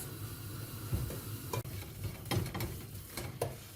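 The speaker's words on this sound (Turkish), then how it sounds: "Şu anda bu şekilde bir 5 dakikadar bu şekilde kavuracağız" Semolina roasting for helva in a pan, stirred with steady scraping strokes over a soft continuous sizzle, close and quiet with no talking.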